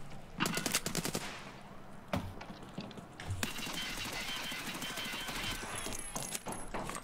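Gunfire in the shooter game Tarkov Arena: rapid automatic bursts crack out early, then sharp single shots and scattered reports follow over a dense, busy background.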